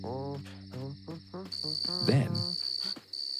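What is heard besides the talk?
cricket chirping in a cartoon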